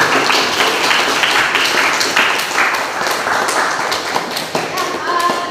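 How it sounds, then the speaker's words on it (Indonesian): A classroom of people claps together after a student group presentation, a steady, dense patter of hands that continues for several seconds before tapering slightly. "Silakan untuk kita tepuk tangan untuk terima"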